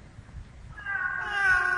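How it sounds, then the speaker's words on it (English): A cat in a video game lets out a meow after a quiet moment, a single drawn-out tonal cry that rises in and holds near and clear. "Follow this, go to the kitty."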